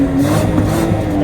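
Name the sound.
luxury limousine exhaust revving in petrol sport mode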